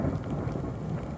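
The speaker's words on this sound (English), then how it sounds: "And thunder!" Low thunder rumbling during light rain in a mountain wilderness by a pond, a brief, steady, distant roll under soft rainfall.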